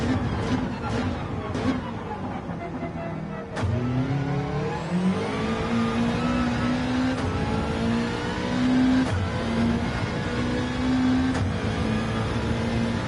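A Gran Turismo 7 Gr.3 race car at Deep Forest Raceway revs hard, its engine pitch climbing and dropping with each upshift in a steady, loud drone, with a few brief clicks over the top.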